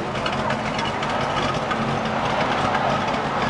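A cammed car engine fitted with new mufflers runs steadily nearby, a dense continuous low rumble with no pauses and no talk over it.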